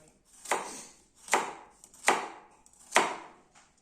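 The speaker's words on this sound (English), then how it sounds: "use the serration I was talking about, you'll actually be able to make some nice slices like these" Four evenly spaced cutting strokes from a serrated Suba knife slicing food, each a short sharp rasp close by, with no talking.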